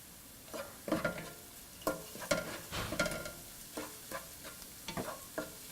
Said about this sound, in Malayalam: ഉള്ളി ഒന്ന് വാടിക്കഴിയുമ്പോൾ കട്ട് ചെയ്ത് വെച്ചിരിക്കുന്ന ഇഞ്ചി, വെളുത്തുള്ളി എന്നിവ ഇട്ട് വഴറ്റുക.